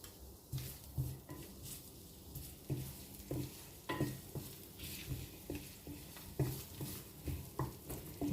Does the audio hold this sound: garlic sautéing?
yes